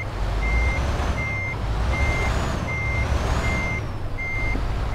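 Truck reversing beeps in Euro Truck Simulator 2, a steady series of evenly spaced electronic beeps over a low engine rumble, heard alone without talk.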